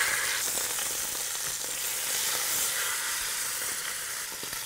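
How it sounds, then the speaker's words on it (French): A salted lamb shoulder sears in a cast-iron cocotte over high heat, giving a steady, bright sizzle and hiss that holds evenly close by, with faint stirring clicks and no voices. "Je mets l'épaule côté salé dans la cocotte."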